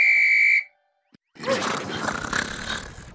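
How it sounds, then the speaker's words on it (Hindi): A fitness trainer blows a loud, shrill whistle in one sustained blast, then silence and a brief tap, followed by a burst of noisy, roaring commotion. "फिटनेस ट्रेनर होने के नाते यारो भी आज सीटी लेके आया है।"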